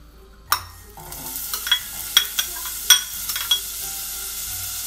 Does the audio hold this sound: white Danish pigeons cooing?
no